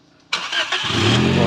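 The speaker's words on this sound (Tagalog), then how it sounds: "Sige bay, pandaran mo." Toyota Vios 1NR engine on a freshly assembled build being cranked, a sudden loud starter burst that rolls straight into a steady running hum, close by.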